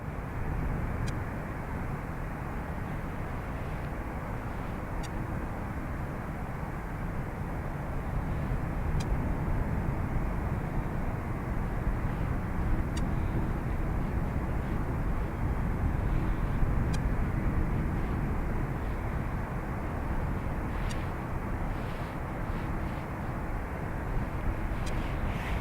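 Airliner taking off from runway 28 right at Dublin Airport, a steady, loud broadband jet roar that builds slightly and holds for the whole stretch, with faint ticking clicks over it and no talk.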